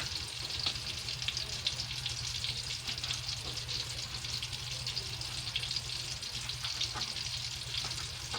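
Slices of ham fry in a pan, a steady close crackling sizzle that holds evenly throughout with no talking.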